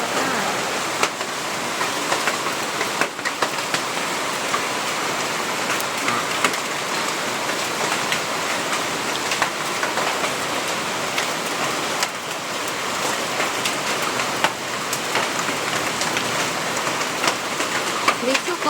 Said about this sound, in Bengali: কত বৃষ্টি হইতেছে আমাদের এখানে শিলা বৃষ্টি হইতেছে শিলা পড়তেছে